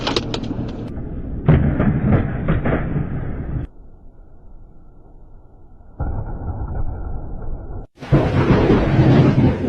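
Loud crashes and rumbles of thunder in a lightning compilation, arriving as several abrupt segments with sudden cuts between them, each one heavy and booming.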